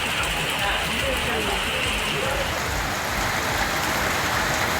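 Heavy rain pours steadily in a rural farming district in Tamil Nadu, a dense, unbroken hiss of drops hitting surfaces, loud and close throughout.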